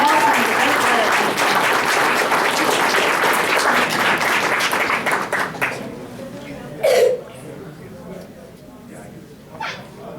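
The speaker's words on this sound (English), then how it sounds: "Big round of applause for Marceline" A crowd at the Bangor Comic-Con 2016 cosplay contest applauds loudly for a Marceline the Vampire Queen cosplayer, then the clapping dies away after about five seconds, leaving a few scattered sounds in a quieter hall.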